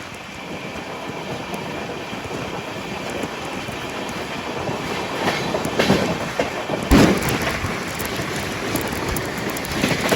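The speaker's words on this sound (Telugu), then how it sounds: "Ashokapuram MGR Chennai central super fast express అది" Chennai Central superfast express train rumbling past on the line, a steady clattering roar with a louder burst of wheel noise near the middle, heard from close by without talk.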